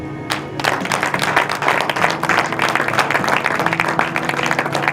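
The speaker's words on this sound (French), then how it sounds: "Acclamez." Church congregation clapping and applauding together after a sermon's call, a dense steady wash of many hands held for the full stretch, fairly close and full, with some faint voices mixed in.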